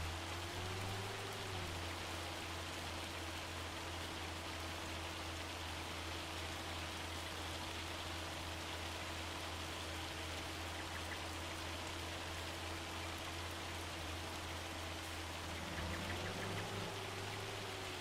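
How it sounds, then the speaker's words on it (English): Steady rain hiss in a farming video game runs throughout, with a constant low engine-like hum and drone beneath it; no voices. "So it's now raining like it was before."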